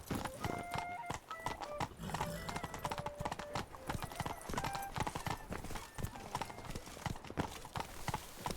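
Roach, Geralt's horse in The Witcher 3, galloping with a quick, continuous clip-clop of hooves throughout, layered over game music with occasional brief snorts.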